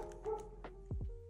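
A small dog gives a few short yips and barks indoors, close by, in quick bursts over a faint steady background hum.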